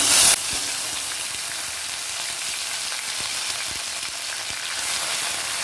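Grated ginger paste sizzling in oil in a pan for Bengali dhokar dalna, a steady close hiss with faint scraping ticks, after a brief louder burst at the start.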